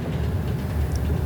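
Train crossing Siberia rolling on its rails, a steady low rumble with a continuous droning hum that holds evenly throughout, close and moderately loud with no distinct clicks standing out.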